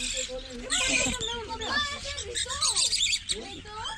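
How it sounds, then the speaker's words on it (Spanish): A small male pet bird chirps and warbles up close in a lively run of twittering notes, with people talking softly underneath. "Pajarito se canta, ¿no?"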